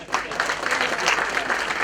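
Dense, steady applause from a crowd, close by and sustained throughout.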